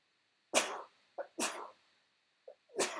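Three sharp sneezes, close and fairly loud, spaced about a second apart with small breathy catches in between; no talking.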